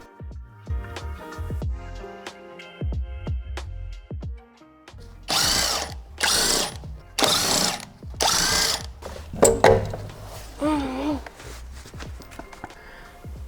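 A power tool removing the wheel from a BMW E28 in a home garage: several short, loud whirring bursts in quick succession, preceded by clanks and footsteps, with a brief voice near the end.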